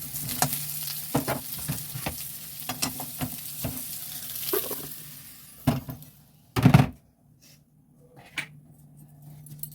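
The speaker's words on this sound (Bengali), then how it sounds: "এবার বরবটি দিয়ে দিচ্ছি। এইভাবে সব সবজিগুলো ভেজে নিচ্ছি।" Yardlong beans and mixed vegetables frying in a hot wok give a steady sizzle broken by scraping and clinking stir strokes, with a loud burst of spitting near the end before it settles to a quieter hiss.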